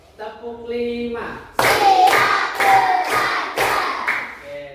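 A voice speaks briefly, then a classroom group claps in loud, rhythmic bursts, about four rounds in steady succession, counting claps in Indonesian.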